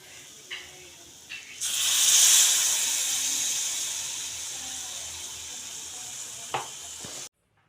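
Tomato puree hits a pan of hot ginger-garlic paste for egg gravy with a loud, sudden sizzle that slowly fades, with a few soft knocks before it and a clack near the end before it cuts off.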